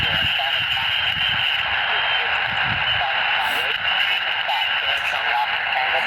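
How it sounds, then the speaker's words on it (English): A Canadian amateur station comes in over HF radio, a distant voice buried in steady loud hiss and static throughout. "You can just hear the Canadian station come in there."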